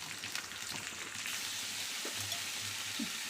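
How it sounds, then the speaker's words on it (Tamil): Tomatoes and coconut sautéing in a pan give a steady, moderately loud sizzle and crackle throughout, with a few soft stirring clicks and no talking. "கொஞ்சமாக தேங்காய் நல்லா வணக்கிக்கலாம்"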